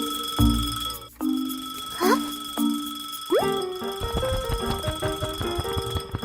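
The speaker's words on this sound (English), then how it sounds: "Suddenly, the clock starts ringing loudly." Bright bell-like ringing bursts repeat several times, then give way to a busier jangling clatter of tones; no voices.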